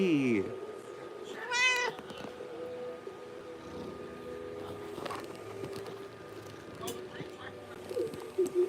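A pet cat meows nearby, with a rising call at the start and a longer, louder meow shortly after. Someone talks softly over a steady background of video game sounds.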